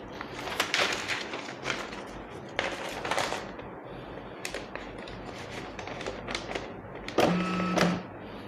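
An Epson LX-310 dot matrix printer prints in rapid, buzzy bursts of head chatter, with several short passes broken by pauses and a longer mechanical whir near the end, all heard close up.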